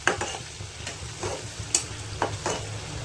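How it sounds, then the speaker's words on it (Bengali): Masala sautéing in a pan for jackfruit kofta curry, with a soft steady sizzle and a few scraping strokes of a spoon across the pan, fairly quiet and close with no talking. "এরকম মশলাটা ভালোভাবে কষিয়ে নিতে হবে।"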